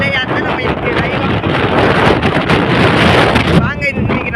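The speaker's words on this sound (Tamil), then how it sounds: "அடிக்கிற காற்றுக்கு என்னாலையும் என் தம்பியாலையும் இங்கே நிற்கவே முடியல" Strong wind blowing on a hilltop in Coimbatore under cloudy skies, loud continuous gusting buffeting the microphone at close range, with a voice briefly heard under it.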